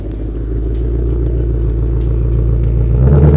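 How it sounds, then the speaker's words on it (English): A 2021 Mustang Shelby GT500 engine rumbles steadily close by, a deep continuous drone that grows slightly louder toward the end. "It's a brand new car, so it should move under its own power, and it does."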